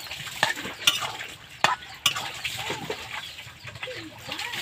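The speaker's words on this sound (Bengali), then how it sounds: "মাছগুলো অবশ্যই ভালো করে নেড়ে দিতে হবে।" Loitta fish frying in a pan are stirred with sharp spatula clinks against the metal, a few distinct knocks over a steady close sizzle and scraping, with faint bird clucks in the background.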